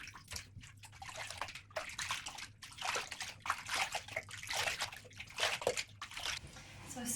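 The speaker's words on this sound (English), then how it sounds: "I'm going to dunk it into some plain warm water and give it a kind of a swish around, dunk it in and out" A human hair topper is dunked in and out of plain warm water and swished around, giving repeated sloshing and splashing that comes and goes in bursts, fairly close and steady throughout.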